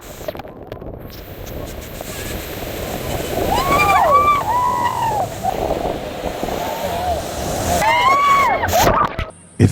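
The water of Iguazu Falls crashes and roars loudly, with wind buffeting the microphone. Rushing spray builds and surges in waves at close range, and a few cheers or shouts carry over the thundering water.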